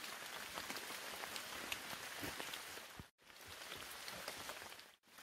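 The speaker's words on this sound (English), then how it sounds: "And it's raining again." Steady rain patters on a Napier Sports camo truck tent, a soft, even hiss of many drops hitting fabric, continuous and fairly faint, with two very brief dips.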